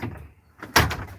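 A door slams shut hard on model 681 equipment with a door switch, one loud impact with a brief rattling decay after a quieter stretch.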